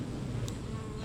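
Honey bees buzz in an active, busy hive with a dense, continuous low drone, close and steady, with a brief higher click partway through.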